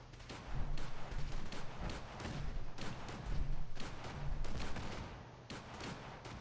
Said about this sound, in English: That is a lot of gunfire and explosions.